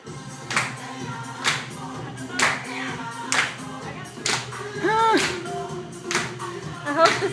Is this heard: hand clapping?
yes